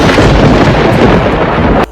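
Heavy, unseasonal thunder rolls with rain in a steady, loud, dense roar that fills the whole stretch and then drops off abruptly at the very end.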